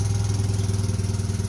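A 1999 Yamaha 9.9hp four-stroke outboard engine runs at a steady, loud, low idle with an even pulsing throb. It is close by and there is no talking.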